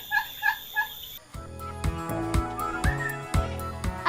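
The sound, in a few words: turkeys gobbling on a turkey farm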